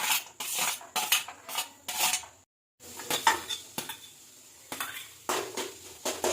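Onions go into a pan for frying among other vegetables in a home kitchen, heard as a run of close clattering utensil scrapes and knocks against the pan with brief pauses and faint sizzle, no voices.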